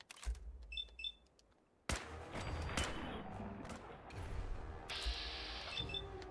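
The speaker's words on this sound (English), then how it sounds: "Good thing this combat rifle gets a lot of shots off" Combat rifle fire against ghouls in Fallout 4: bursts of sharp gunshots crackle over a busy, loud game soundscape, with heavier clustered volleys in the second half and no talking.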